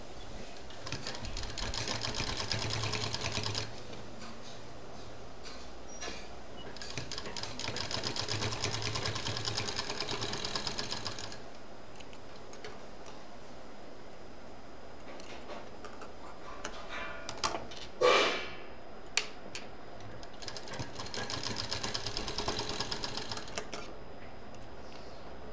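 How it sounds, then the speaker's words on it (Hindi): A sewing machine stitches fabric for a small cloth item with a belt strap, running in steady bursts with pauses and a few clicks and taps, moderately close with no talking. "और बराबर से रखते हुए यहाँ पर सिलाई देंगे, उसके बाद नीचे सिलाई कर देंगे।"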